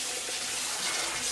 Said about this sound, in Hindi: ठंडे पानी के साथ हमेशा आपको वॉश करना चाहिए।